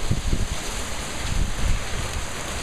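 Heavy rain and gusting wind during a tornado storm in Corsico, Italy, a steady loud broadband roar with low rumbling gusts and drops hammering the floor, continuous throughout with no talk.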